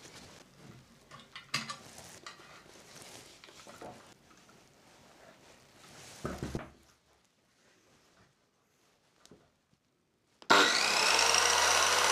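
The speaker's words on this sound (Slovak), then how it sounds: "rovnako si odmeriame hĺbku rezu pod 45 stupňovým pílením" An INGCO CS 185 mm circular saw set to a 45-degree bevel is handled on wood with scraping and knocks, then falls quiet before the motor suddenly roars up loud and steady.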